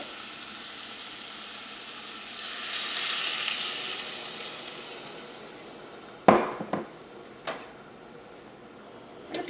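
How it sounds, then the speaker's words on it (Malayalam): Water poured into Kerala beef masala sizzling hard in a hot pan, a loud frying hiss surging after a few seconds, followed by sharp clanks and scrapes of a utensil against the pan. "നമുക്ക് ഇതിലേക്ക് ആവശ്യത്തിന് വെള്ളം ഒഴിക്കാം."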